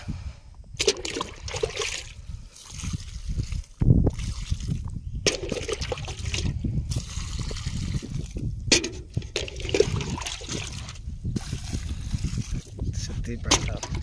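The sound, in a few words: water poured on a newly planted tree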